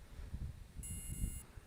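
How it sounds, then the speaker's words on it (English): A faint, high electronic beep from a DJI Spark drone sounds once, lasting over half a second, over a low rumble of background noise. "You'll hear a beep."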